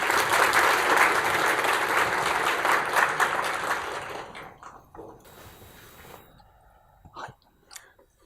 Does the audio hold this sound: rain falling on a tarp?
no